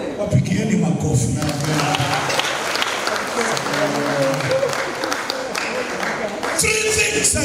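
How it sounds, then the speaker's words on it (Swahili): A church congregation breaks into loud, sustained applause that fills the room for several seconds, with a voice speaking over the clapping. "Wapigieni makofi."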